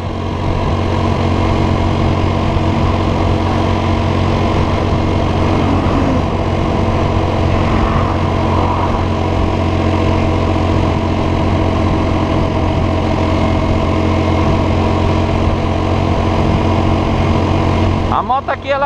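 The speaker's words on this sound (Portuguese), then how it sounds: "A moto aqui, ela começou a dar umas falhadas." A motorcycle engine idles steadily on the BR-174 highway in Roraima, a constant low rumble with a slightly uneven, faltering note from misfiring, heard close and alone throughout.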